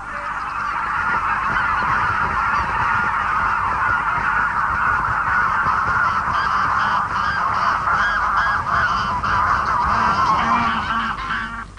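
A flock of greylag geese honking loudly and continuously, many overlapping calls close by forming a dense, unbroken chorus with no talking.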